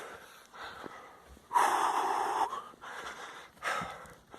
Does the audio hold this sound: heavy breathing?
yes